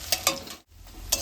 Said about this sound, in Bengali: এবারে একটু ভাজা করে নেব বাদামি রং আসা পর্যন্ত